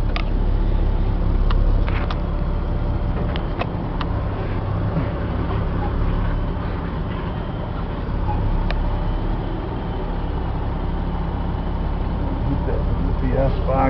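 A 2002 Chevy C8500 military truck with a Caterpillar 3126 diesel drives along with a steady, deep engine rumble. Someone talks over the continuous low drone.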